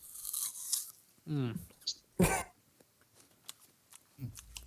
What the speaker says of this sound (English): I'm eating an apple.